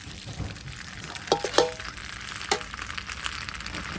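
Marinated pork sizzles and is tossed in a wok, a soft steady frying hiss with a few metallic scrapes and clinks of the utensil against the pan, close but fairly quiet.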